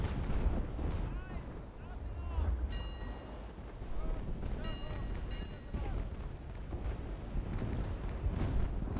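Naval sailing-battle game cannon fire rumbles as repeated heavy booms under constant wind and sea noise, with a voice talking intermittently over it.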